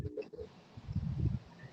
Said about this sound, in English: There's a bird sound.